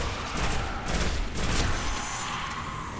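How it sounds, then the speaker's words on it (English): Pulse rifle bursts from Destiny, set among the Hive, sound as dense, broadband crackling gunfire with a few louder swells, a steady wash of shots and no clear gaps throughout. "Burst Fire."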